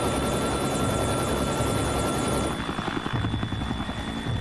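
A helicopter flies nearby with a loud, steady engine whine and a rapid rotor chop that grows more distinct toward the end.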